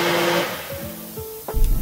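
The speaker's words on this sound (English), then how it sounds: "I'm going to blend it into a puree" A blender whirs while pureeing pumpkin beef soup for a Jamaican recipe, its motor pitch stepping and dropping in short pulses before a louder burst at the end, close and alone.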